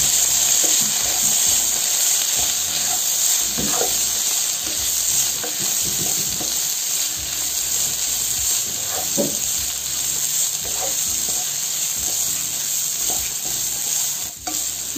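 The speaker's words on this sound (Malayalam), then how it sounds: "ഇനി ഇതിലേക്ക് നമ്മൾ അരിഞ്ഞു വെച്ചിരിക്കുന്നതായ തക്കാളിപ്പഴം ഇട്ട് കൊടുക്കാം." Chopped tomatoes hit sautéed onions for a tuna fish thoran, giving a steady close sizzle of frying with stirring scrapes and small clatters throughout, no voices.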